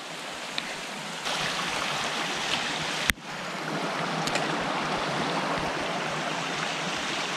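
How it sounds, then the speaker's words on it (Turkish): Steady, full-bodied rush of a mountain stream flowing over rocks on a slippery rainy hiking trail, continuous and close, with a couple of brief knocks breaking the even wash of water. "Bu muydu geçeceğimiz dere?"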